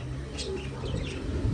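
Pigeons coo in soft low murmurs close by, with a few faint chirps and light background noise.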